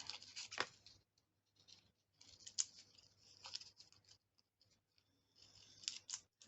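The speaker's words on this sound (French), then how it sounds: "je vais prendre ma pastille, je vais la couper en deux" Scissors snip through a paper disc to halve it, a series of quiet, close crisp cuts and rustles coming in short bursts separated by brief silences.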